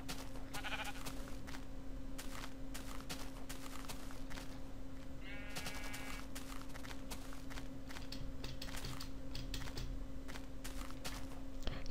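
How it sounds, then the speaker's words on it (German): Sheep in Minecraft let out a few short bleats against continual rapid keyboard and mouse clicking and a steady electrical hum. "Hier sind aber eine Menge schwarze Schafe"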